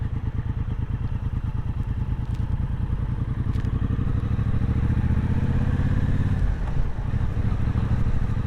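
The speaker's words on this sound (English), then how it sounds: "I really like the industrial gear shift." A new big motorcycle engine thrums loud and close in a rapid, even pulse, and one dull clunk from its industrial gear shift lands about two-thirds of the way through as the engine note drops and changes.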